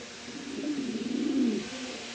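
A single pigeon from a pigeon club's stock gives one low, throaty coo that swells and fades over about two seconds, close and fairly quiet, with no talking.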